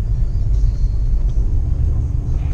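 Low, steady engine rumble from a car driven slowly in sport mode at a late-night hour, a continuous near drone with faint higher whine and no talk.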